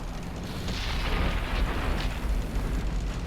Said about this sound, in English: Enemies got us in their sight. And we bounce a shot.